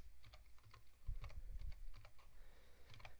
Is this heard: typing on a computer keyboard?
yes